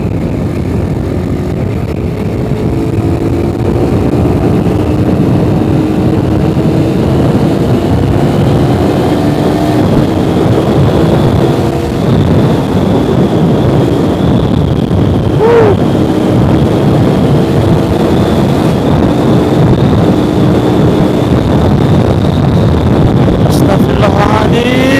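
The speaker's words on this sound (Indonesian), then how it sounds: "ini motor atau badan atau bajai? Kencang amat larinya." A Suzuki Satria FU motorcycle with a standard engine runs fast, its drone rising and falling steadily for the whole stretch, heavily buffeted by wind noise, close and loud.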